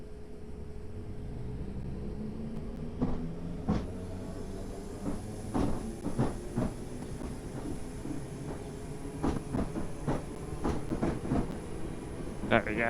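A train in Train Simulator Classic rolls as it throttles up, a steady rumble under repeated clacks and knocks of wheels over rail joints.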